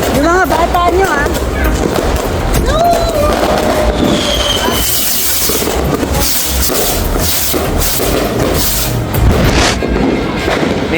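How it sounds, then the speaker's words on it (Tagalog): Loud firecracker explosions and crackling bursts outdoors, dense and continuous, with people talking and shouting over them. "May malakas akong paputok."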